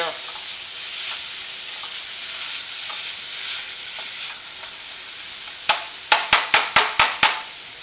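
Meat frying in a pan with a steady, close hiss, then a quick run of about seven sharp taps and scrapes as a utensil breaks it up and flips it.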